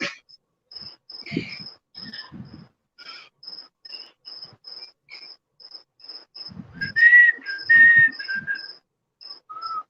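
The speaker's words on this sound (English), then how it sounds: "Sorry, I whistle when I'm nervous sometimes." A person whistles short, breathy melodic phrases, pausing between them, while a constant high chirping tone pulses in the background.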